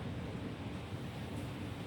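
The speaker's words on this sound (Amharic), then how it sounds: "አሁን መጣ ንፋሱ።" Wind roars steadily through a rainy-season storm in a short, faint burst of dense low rushing noise, with no voices.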